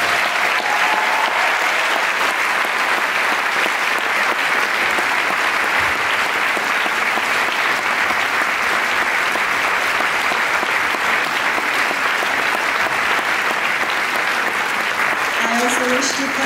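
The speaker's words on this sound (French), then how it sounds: "Je vous demande de me rejoindre sur scène et à vous de les applaudir." A large audience at the closing ceremony of the Directors' Fortnight in Cannes breaks into sustained applause, a loud, dense and unbroken roar of clapping held at full strength, with faint voices briefly audible beneath it.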